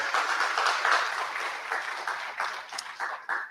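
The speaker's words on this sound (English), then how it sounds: "Round of applause for our LGBTQ table over there." Gala audience breaking into sustained applause, dense clapping rolling steadily then tapering into scattered bursts toward the end.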